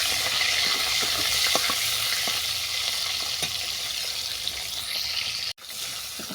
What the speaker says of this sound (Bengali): নামিয়ে নিয়ে এই তেলেই চিংড়ি মাছটাকে ভেজে নেব